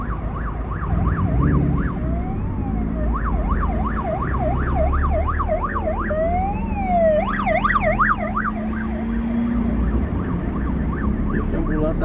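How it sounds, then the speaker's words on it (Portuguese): Ambulance siren wailing loudly nearby in São Paulo street traffic near the Corinthians arena, a rising and falling electronic wail that shifts pitch as it passes, with engine and road noise underneath throughout. "Deixa a ambulância passar e bora que bora."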